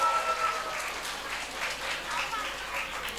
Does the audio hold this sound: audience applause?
yes